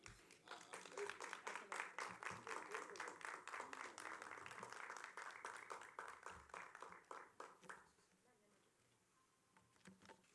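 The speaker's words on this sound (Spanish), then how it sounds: "Fuerte el aplauso, por favor." An audience at a cultural venue applauds a musician with steady, dense clapping for about eight seconds, heard from a distance, before it quickly fades into near silence.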